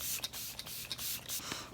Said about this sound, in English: Set with the Dewy Setting Spray.